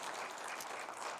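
A faint, brief burst of steady applause rises from an audience at a Play To Win 2014 event, honouring a ball girl.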